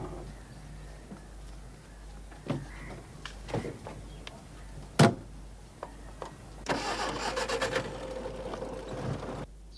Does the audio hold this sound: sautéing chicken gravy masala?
no